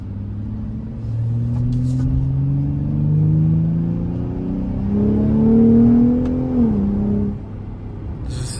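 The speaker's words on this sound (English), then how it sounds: "The different tone in the exhaust." 2024 Ford F-150 Raptor in four-wheel auto, its exhaust revving: a deep, loud growl that climbs and falls in pitch over several seconds, then settles back to a low rumble.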